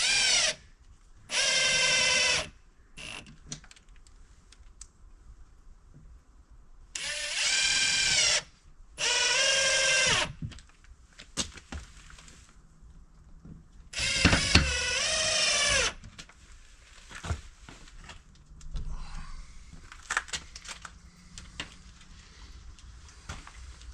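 A power drill drives white screws into a wood-core storm door during installation, in several separate high-pitched whirring bursts with pauses and handling knocks between them.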